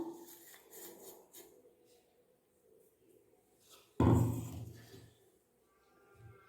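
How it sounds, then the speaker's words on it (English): Warm ghee sweet mixture for Diwali being scraped from a pan onto a plate, with soft scraping and rubbing, then a sudden loud clatter of utensil against dish that fades out. "now I will just transfer it to a plate"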